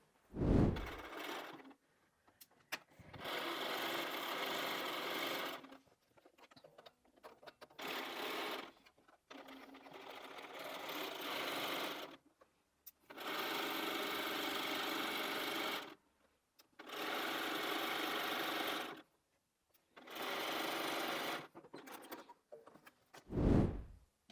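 Sewing machine stitching through a bulky charm pack heart wall hanging, running in several sustained bursts of steady whirring separated by short pauses, close and fairly loud, with no talking.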